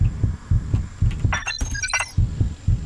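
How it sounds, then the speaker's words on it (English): A low-health heartbeat effect from the video game Just Cause thumps in a steady double-beat rhythm, briefly interrupted midway by a burst of sharp, bright chiming and metallic game effects before the pulsing resumes. "Sorry about the heart beating noise."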